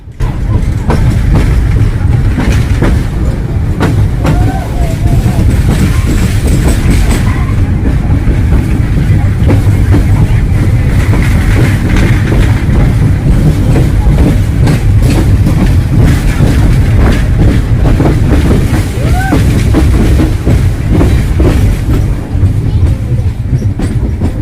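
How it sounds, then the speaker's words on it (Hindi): A train pulled by two engines rolls across a bridge toward a tunnel in hilly country, a loud, close, continuous rumble with rail clatter running the whole way through. "और हमारी ट्रेन इस ब्रिज से होते हुए टनल के अंदर जाएगी।"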